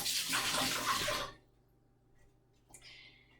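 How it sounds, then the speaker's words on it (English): Tap water runs loudly for just over a second as a borax spoon is rinsed off in a school polymer lab, then cuts off, leaving a quiet room and a faint clink near the end. "Now if you use your borax spoon, just rinse it off before you put it in the other beaker."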